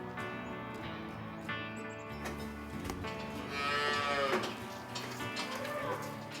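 Dairy cows on a Quebec farm mooing repeatedly, several long, loud, close calls overlapping one another with steady barn ambience between them.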